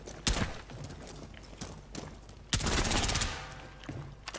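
Gunfire in Rainbow Six Siege: a few sharp, close shots, then a rapid burst of automatic fire with loud cracks over a low game ambience.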